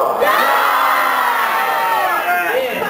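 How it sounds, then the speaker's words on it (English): An audience yells together loudly, a dense sustained roar of many voices shouting at once, close and filling the whole stretch before fading slightly at the end. "if they stumble, if they fumble, if they mess up words, you're going to yell"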